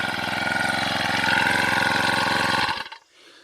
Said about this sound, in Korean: 이 시동 레바를 돌리면은 시동이 잘 걸립니다. 네, 바로 걸렸죠.